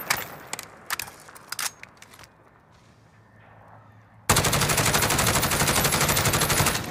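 Rapid bursts of Grau 5.56 assault rifle fire from a video game, a few short volleys followed by a quiet pause, then a long sustained loud automatic stream.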